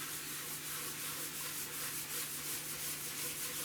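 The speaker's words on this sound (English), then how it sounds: "you just want to kind of buff it, just kind of clean off the excess, right? So we're just going to be doing circular motions here." A paper towel buffs excess butcher block conditioner off a wooden cutting board in circular motions, making a close, continuous rubbing swish with a faint pulsing rhythm and no speech.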